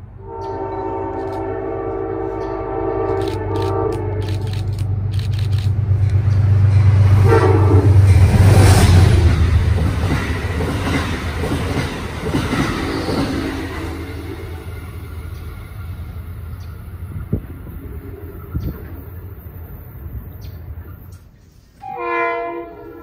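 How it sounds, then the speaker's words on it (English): An Amtrak Empire Service train heading north toward Niagara Falls, New York, with a P32AC-DM locomotive on the point, passes by on the Hudson Line: loud horn blasts at the start, then a heavy rolling rumble that swells close by and slowly fades. "The first train we witness is an Empire service train heading north for Niagara Falls, New York, with a P32 ACDM on the point."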